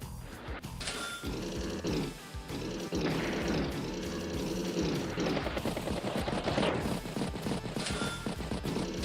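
Gunfire from units attacking in the Advance Wars by Web strategy game, with dense, loud bursts of rapid shots and crashes that run continuously.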